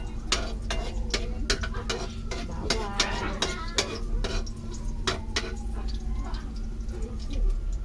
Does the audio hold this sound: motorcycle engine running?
no